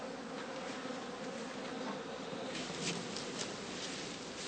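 Honey bees buzzing steadily around heather straw skeps in an autumn apiary, a dense continuous hum of many insects close by, with no voices.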